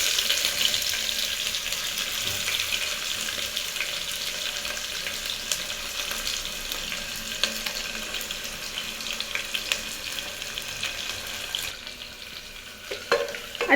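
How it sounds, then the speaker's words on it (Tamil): Onions frying in hot oil with mustard seeds already spluttered, a steady close sizzle with occasional crackles and light stirring, fading slightly near the end with a few clatters. "கடுகு பொரிஞ்சதையும் வெங்காயம் போட்டுக்கலாங்க"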